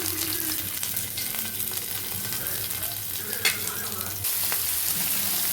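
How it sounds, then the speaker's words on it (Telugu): Fish sizzles steadily in hot oil as it fries, a loud continuous crackle with occasional stirring knocks and a brief clatter partway through. "ఇవన్నీ చేపలన్నీ వేపాలండి ముందు."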